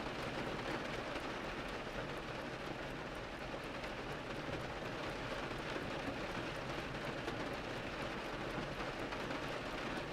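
Steady rain runs down storefront windows, a soft continuous rushing and crackling hiss with no breaks, even and moderately quiet throughout.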